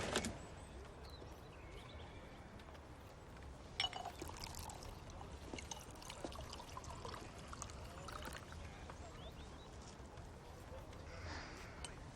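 Water poured out in a period drama set after the fall of the Alamo, a soft trickling stream over quiet outdoor ambience with a brief knock partway through.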